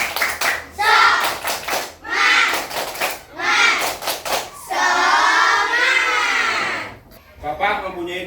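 Schoolchildren in a classroom doing a rhythmic clapping chant, short bursts of claps alternating with loud group voices shouting and singing in unison.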